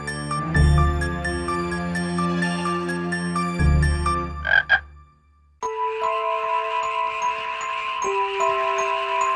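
Toad croaking in a children's fairy-tale story set by a pond, with croaks repeating over a musical backing, pausing briefly before resuming in a steady rhythm.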